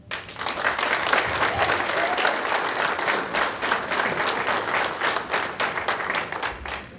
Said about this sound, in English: I think all of you deserve a round of applause for being here.